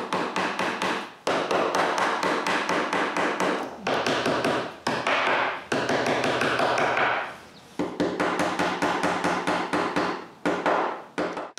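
Female plastic strip-lock parts are pushed into glue-coated holes in wooden panels, making rapid bursts of close, sharp tapping and knocking broken by brief pauses.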